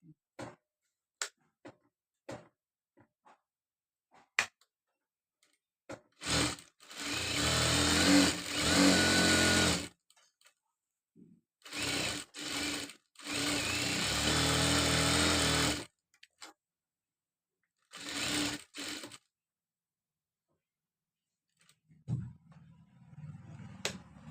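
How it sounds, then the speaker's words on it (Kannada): A sewing machine stitches a school uniform. It runs in short bursts of rapid whirring and clatter, separated by quiet pauses filled with scattered clicks and taps, close and clear with no speech. "ಎರಡು ಕಡೆ ಒಂದೊಂದು ಸ್ಟಿಚ್ ಆದಮೇಲೆ ಅದರ ಪಕ್ಕದಲ್ಲಿ ಇನ್ನೊಂದು ಸ್ಟಿಚ್ ಹಾಕ್ಕೊಳ್ತೀನಿ"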